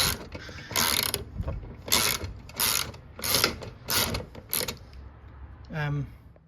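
A ratchet works a bolt loose while replacing the fuel filler door on a 1993 Cadillac Fleetwood Brougham, sounding as about eight close, rhythmic bursts of clicking. A brief voice follows near the end.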